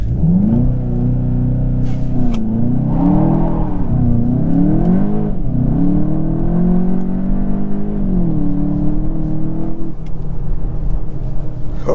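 A 2023 Volkswagen Jetta GLI Autobahn pulls hard from a standstill, the engine revving up loudly through several gears with rising pitch sweeps and short dips at each shift, heard from inside the cabin.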